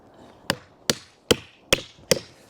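Five sharp, evenly spaced hammer blows ring out close by, driving a nail into garden room trim. Each blow is a crisp woody knock with a short decay.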